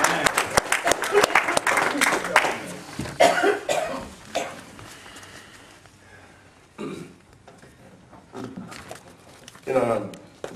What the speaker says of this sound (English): Let's have a big round of applause for both parties.